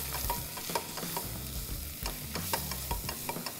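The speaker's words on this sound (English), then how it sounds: "we'll give all of this a mix now" A spoon works through a rajma biryani mixture with turmeric, ginger juliennes and green cardamom powder, giving quick repeated scrapes and knocks against the pot over a soft, steady sizzle.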